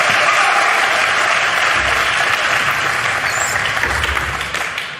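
An arena crowd at a professional pool tournament semi-final bursts into sustained, loud applause after a shot, a dense wash of clapping that holds steady and then begins to thin toward the end.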